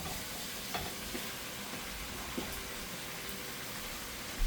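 Meat sizzles steadily in a hot pan alongside peppers and onion, a dense broadband frying hiss with a few soft clicks of stirring, close and continuous with no talking.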